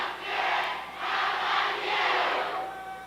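A group of people chants a spirit cheer in unison, three swelling broadband waves of massed voices rising and falling over about three seconds, fairly loud and close.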